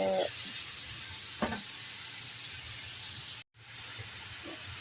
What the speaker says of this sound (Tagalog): Haluin hanggang mag-mix lahat yung mga spices niya sa chicken.